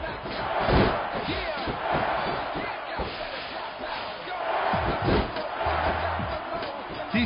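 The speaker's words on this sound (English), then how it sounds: "sick the way these fans cheer on this Eugene guy." Crowd cheering in the WWE SmackDown vs Raw wrestling video game, a steady loud roar of fans with thuds and slams from the ring running throughout.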